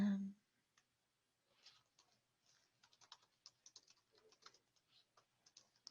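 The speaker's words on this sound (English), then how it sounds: "I'm just typing a few things just so you can see what it looks like" Light, rapid typing on a computer keyboard, faint and close, with irregular bursts of key clicks that grow busier toward the end after a brief voice at the start.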